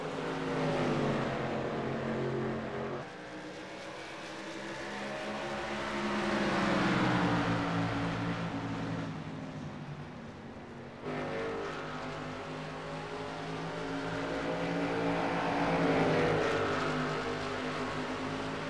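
A race car engine in the iRacing sim lapping a track, with a steady high drone that rises and falls through shifts and a few sharp gear-change breaks, close and continuous, no talking.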